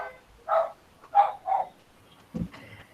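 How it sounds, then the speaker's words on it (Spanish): Neighbour's dog barking at a distance, three short muffled barks in quick succession followed by a faint yip, otherwise quiet. "el perro del vecino"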